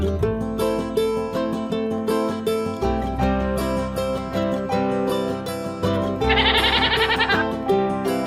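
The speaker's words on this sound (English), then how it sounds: "Goat." A goat bleats repeatedly in short wavering calls, loud and close, set against a bouncy children's music backing, with a brighter rattling burst near the end.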